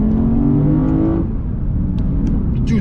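A Lexus IS500 pulls away from a stop sign, its engine rising loudly in pitch, then shifting and carrying on with a strong roar and some whine, heard from inside the car with no talk.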